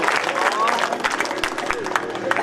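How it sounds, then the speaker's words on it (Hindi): Audience applause at an All India Mushaira in Sangareddy fills the space, a steady dense patter of many hands clapping close by, with crowd noise and voices mixed in throughout. "ताली बजनी चाहिए कि नहीं बजनी चाहिए"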